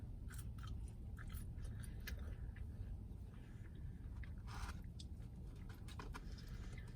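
Someone eats french fries close up in a car, a quiet stream of soft chewing and crunching bites with small irregular clicks, no talking over it.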